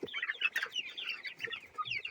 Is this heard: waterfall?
no